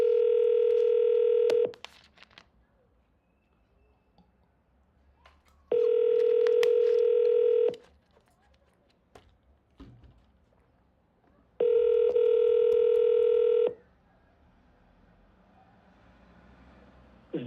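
An outgoing phone call to a commercial real estate office: three long bursts of ringback tone at steady intervals, with quiet gaps between them and faint background noise.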